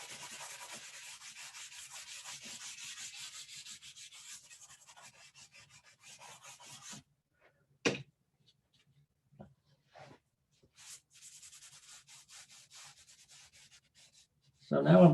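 Soft pastel is rubbed steadily into paper, making a dry, close, continuous scrubbing sound for several seconds, followed by sparse short strokes and taps.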